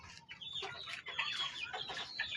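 A gamefowl hen clucks in a backyard, a few soft, close clucks and chirpy calls forming a brief, steady run at low volume with no talking.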